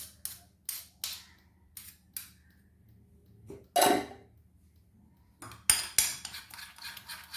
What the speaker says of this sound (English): I'm giving it a good stir. We need to make it into a nice and smooth paste.